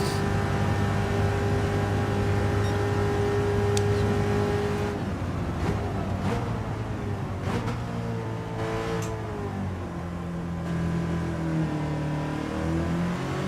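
A car engine in Gran Turismo 7 revs and shifts through its gears, the pitch climbing and dropping in steady sweeps that dominate with no talk over it.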